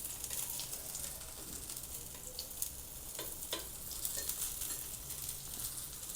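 A paneer corn paratha fries in ghee on a pan, giving a steady, soft, close sizzle with faint crackles and no voices.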